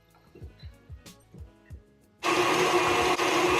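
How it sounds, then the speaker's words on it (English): An electric stand mixer churns cream cheese and butter in a bowl, starting abruptly after a few soft knocks and then whirring loudly and steadily to the end. "In the bowl of a clean mixer, go ahead and mix together the cream cheese and butter"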